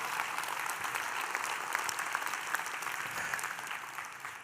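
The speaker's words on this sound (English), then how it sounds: "Give yourselves a round of applause." A crowd applauds steadily and loudly, a dense wash of clapping with scattered sharper claps and no pauses.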